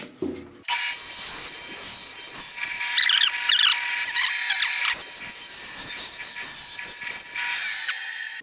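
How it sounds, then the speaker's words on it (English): A bandsaw cutting through a workpiece in a woodshop, a loud sustained whine with rough grinding texture running several seconds after a brief click at the start, with shifting pitch as the cut proceeds. "On a bandsaw, of course, there's no choice but to cut inside"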